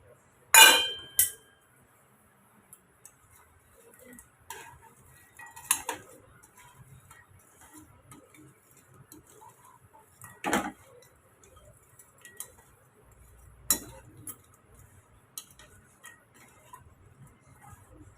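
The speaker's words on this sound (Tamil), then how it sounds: "இப்போ நம்ம பொரிச்சு எடுத்தது எல்லாம் இப்போ சுகர் சிரப்பில் சேர்த்து கலந்து விட்டுக்கலாம்." A spoon clinks and scrapes against a pan as freshly fried snacks are stirred into sugar syrup. The clinks are sparse and quiet, with faint kitchen ticks between them and no talking.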